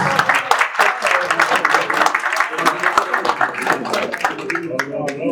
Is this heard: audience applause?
yes